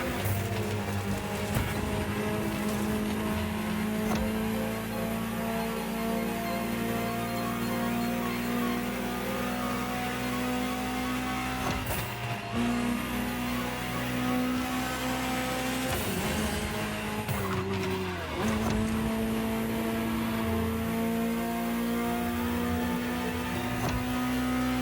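A Ferrari supercar engine in the racing video game The Crew Motorfest drones steadily while driving at speed, with a few brief shifts in pitch, continuous and without talk.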